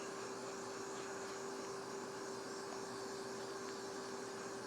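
A hot air rework station without a nozzle blows from a distance to preheat a Samsung J7 Prime phone circuit board, a quiet, steady airy hiss with a faint constant whine and no speech.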